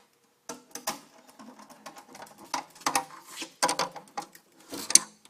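Small hand tools turning bolts during assembly of a ThunderVak 2.0, heard as a quick run of light clicks, scrapes and taps that come and go, close and fairly quiet, with no talking.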